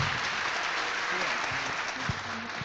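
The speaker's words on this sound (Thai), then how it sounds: "ขอเสียงปรบมือนะฮะ" Applause from the audience at the MHCon 2015 conference session, a steady dense wash of clapping hands filling the whole moment, with faint voices underneath.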